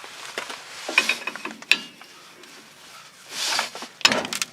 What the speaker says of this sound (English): pop a wrench in there, like that, and get the drive shaft popped loose